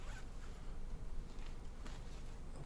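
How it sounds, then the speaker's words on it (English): A zipper slides open with a steady rasping scrape, close by, over faint background noise with no talking. "Yeah, here's the zip."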